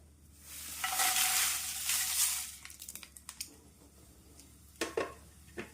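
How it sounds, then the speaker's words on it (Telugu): Dried red chillies tipped into hot oil for a spice powder, bursting into a loud, close sizzle that fades into crackling and a series of light stirring clicks and scrapes against the pan. "ఇప్పుడు దీంట్లో ఎండుమిరపకాయలు వేసుకుందాం"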